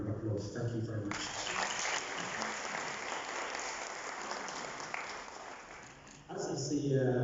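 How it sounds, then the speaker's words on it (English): Audience applause at the opening ceremony of the 6th PIAFRICA conference, a dense steady wash of clapping lasting several seconds, tapering slightly before a louder burst near the end. "So please join me in giving a big round of applause"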